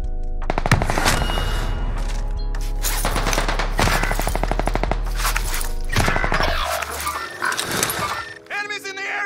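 Rapid bursts of FARA 83 assault-rifle fire in Call of Duty Warzone on Rebirth Island, loud and close, with dense repeated shots through most of the clip and a player's voice talking over the gunfire.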